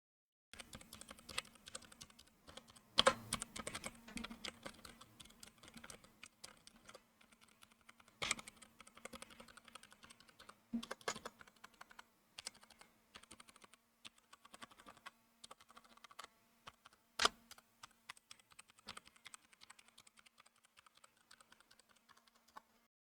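Alphabet keys on a budget Redragon mechanical keyboard are typed at a steady pace for over twenty seconds, with fairly soft, close, even clicks and a few sharper strikes.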